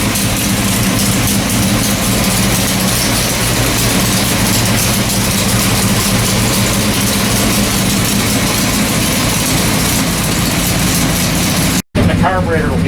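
A 1971 Corvette LS6 454 big-block engine runs steadily on a dyno, a loud, dense, unbroken roar that holds for the whole stretch before a brief cutoff and restart at the end.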